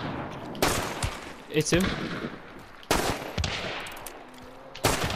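Mosin bolt-action rifle shots in a multiplayer shooter video game, three sharp loud reports spaced a couple of seconds apart, with brief talk and other gunfire between them.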